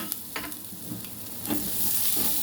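Sweet potato pieces drop into a hot pan and fry with a steady, fairly quiet sizzle, joined by a few light stirring scrapes.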